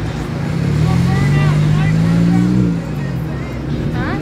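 Ford Mustang 5-liter at a car meet, a loud nearby engine note rising and swelling for a couple of seconds then easing off, with crowd chatter and voices around it.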